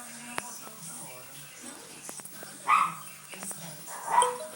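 Several dogs bark and yip in the background of a Portuguese-language home recording, a few moderate barks and whimpers scattered among a person's speech.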